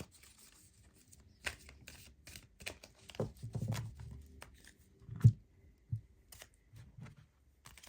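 Oracle fairy cards being shuffled by hand in quiet surroundings, producing soft, irregular riffling and tapping bursts with pauses, close but faint.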